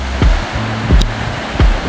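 Rough ocean waves surging along the Jeju Island coast, three loud rhythmic crashes in under two seconds, close and forceful over a steady roar of water.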